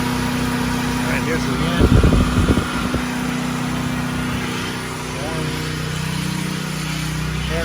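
A Firman Tri Fuel T07571 portable generator runs on natural gas, powering a 3-ton AC unit and a house, with a steady low engine drone throughout and someone talking briefly over it near the start.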